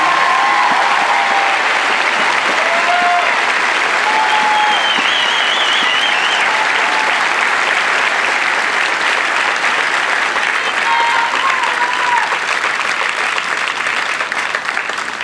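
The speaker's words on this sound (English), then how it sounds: "how about another round of applause for these exceptional airmen?" Loud, sustained applause from a large audience at an Air Force basic military training coin ceremony for graduating airmen, dense clapping that continues unbroken with occasional faint shouts over it.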